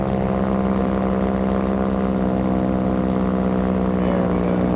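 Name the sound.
rear motor of an aircraft running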